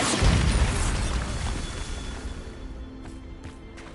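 Bombarda, the explosive spell from Hogwarts Legacy, detonates with a loud, close blast at the very start, its roar slowly decaying into a fading rumble, with a few faint crackles trailing near the end.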